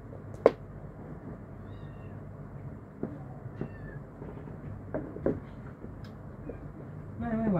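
Several sharp meows from a cat after it knocks over a basket, scattered across a low indoor hum, with one loud cry near the start and a few quieter calls later.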